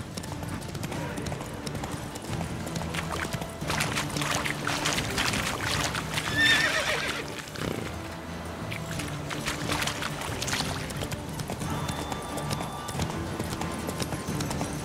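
Hooves of Roach, the horse in The Witcher 3, clop in a steady, continuous rhythm over soft ground, moderately loud against a busy ambient game backdrop, with scattered splashy and scraping noises mixed in.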